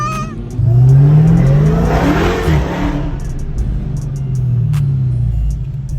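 Supercars rev hard and roar past on a street during a cruise, with a loud, close engine drone that rises and falls and sharp higher bursts mixed in, all without talk.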